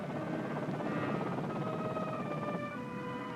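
A steady, droning whir of a U.S. Marine Corps helicopter in a 1965 film, with a wailing, siren-like tone riding over it, continuous and fairly loud throughout.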